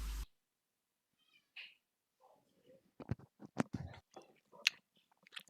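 A cat gives a few short, faint meows mixed with small clicking and chewing-like noises, scattered sounds in an otherwise quiet room.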